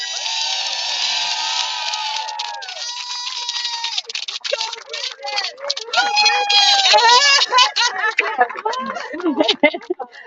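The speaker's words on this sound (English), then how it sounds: "give it up once more and a big applause for Team Aurora" A crowd cheers, whoops and claps at a finish celebration for the Team Aurora rowing crew after a Pacific ocean row, the noise rising and staying loud and lively, mixed with excited voices.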